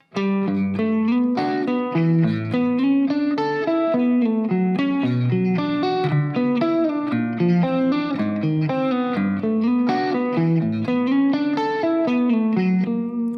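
Notey electric guitar riff through effects with distortion, chorus and reverb, a continuous run of fast picked notes, loud and up close for over ten seconds with no talking.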